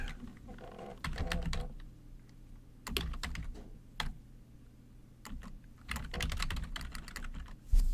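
Bursts of computer keyboard typing on a Windows PC, close by, with quick runs of clicking keystrokes separated by short quiet pauses.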